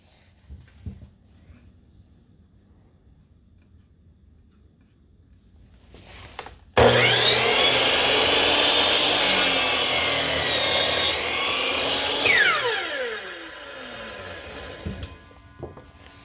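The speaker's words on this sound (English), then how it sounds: "I'm going to cut off the bad end" Quiet room, then a hand saw cuts off the end of a piece of wood with steady rapid back-and-forth strokes, loud and close, slowing and fading near the end.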